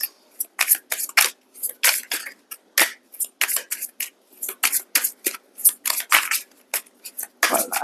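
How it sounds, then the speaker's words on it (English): Tarot cards being shuffled by hand in a quiet room, a steady run of crisp riffling and slapping bursts with short pauses between them, close and clear with no talking. "One last shuffle, please."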